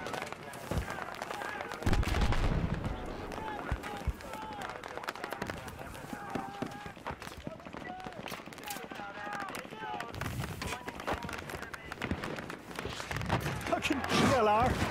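Gunfire rattles through a Battlefield 3 campaign ambush, bursts of shots and explosive thumps mixed with game chatter and music, with heavier hits near the start and end.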